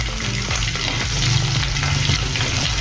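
Green chillies and ginger frying in oil crackle loudly and steadily up close, with faint clinks of stirring beneath.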